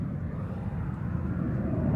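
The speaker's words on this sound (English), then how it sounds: "This aircraft painted up in the markings of the red arrows, AX Gnat aircraft." Folland Gnat lightweight swept-wing supersonic jet trainer in Red Arrows markings flying past, a steady low jet roar, fairly distant and even, with no voices.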